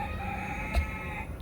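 A big farmyard rooster lets out a short, fairly faint crow, a single call rising briefly over a quiet background with no talking.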